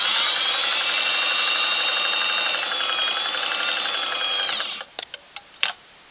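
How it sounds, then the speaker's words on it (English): A Singer 404 sewing machine running a straight stitch through fabric, a steady fast whirring hum for several seconds that winds down and stops, followed by a few small clicks. "And I'll just sew along here."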